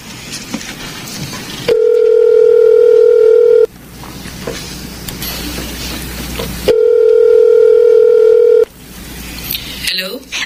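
A phone receiver plays a loud, steady dial tone in two long, identical stretches about two seconds each, separated by quieter room noise, with faint clicks at the end.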